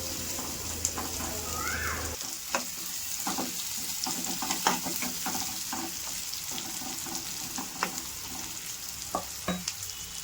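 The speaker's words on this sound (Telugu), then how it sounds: "మనం అట్లా వేగుతూ ఉంటుంటుంది, అప్పుడప్పుడు కలుపుతూ ఉండాలి." Oil frying for a chicken curry, a continuous close sizzle broken by occasional spoon clinks and stirring taps, with a faint murmur at the start.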